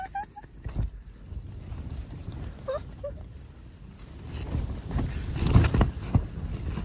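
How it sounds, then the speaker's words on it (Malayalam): Strong wind and rain outside a tent on a wild camping trip in Wales give a fairly faint, gusty low buffeting that swells and builds toward the end, with no voices. "കേൾക്കുന്നുണ്ടാവുമല്ലോ അല്ലേ? നല്ല കാറ്റ് മഴയാണ് പുറത്ത്."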